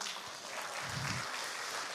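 Applause from a church class audience, a steady wash of many hands clapping at moderate level throughout, no voices over it.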